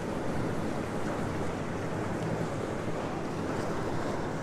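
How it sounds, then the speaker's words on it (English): Strong wind roars across the microphone alongside crashing surf at Currumbin Beach, Queensland, a loud, unbroken rush with no pauses. "So windy that I'm not really keen on getting out there just yet."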